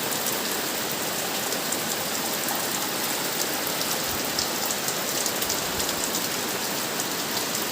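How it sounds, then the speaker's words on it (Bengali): Heavy rain pours steadily outside a home in Bengal, a dense, even hiss of drops drumming on surfaces throughout, with no voices or other sounds rising above it. "ভালোই জোরে বৃষ্টি পড়ছে,"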